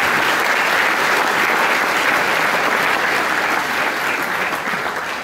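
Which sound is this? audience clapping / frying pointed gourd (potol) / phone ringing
audience clapping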